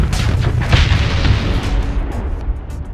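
Spaceship weapons in Starsector fire in heavy, booming bursts with deep rumbling blasts, continuous and loud with dense layered impacts.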